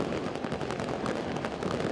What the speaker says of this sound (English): Fireworks rain over top of Estadio Cuscatlán.